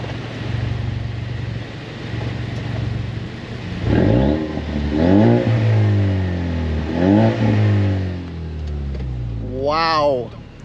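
Ford Mustang EcoBoost with its muffler deleted, idling in neutral then revved several times in quick sharp bursts, loud and close, with voices talking over the engine.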